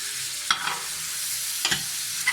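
Steak frying in butter in a pan, a steady close sizzle with a few brief clinks or stirring scrapes on top, no voices.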